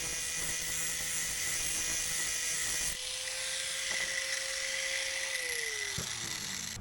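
A grinder working on a Jeep Cherokee, a steady high whine running on for several seconds, its pitch stepping down and sliding lower near the end.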